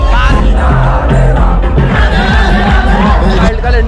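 A large, dense crowd at the Abhivyakti Garba event in Bhopal, with loud, constant chatter and overlapping voices close by and a busy festive din throughout.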